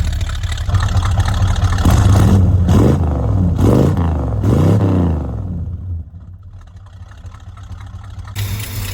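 A 1968 Dodge Dart sedan V8 engine revs up in several strong bursts over a rough idle, loud and close, then settles back to a lower idle before picking up again at the end.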